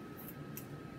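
Scissors cutting while children paint with balloons, two quick faint snips close by against a soft background, no speech over them.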